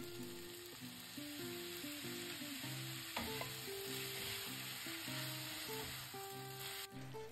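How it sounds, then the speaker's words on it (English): Rice noodles with sauce stir-fry for beef chow fun, a steady loud sizzle filling the background while a tonal hum from the kitchen drones over it. "I can add the remaining sauce to the rice noodle that looks lighter in color"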